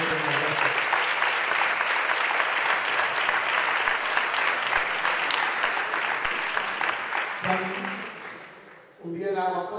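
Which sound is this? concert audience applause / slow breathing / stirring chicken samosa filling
concert audience applause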